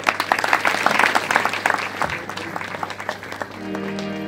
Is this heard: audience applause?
yes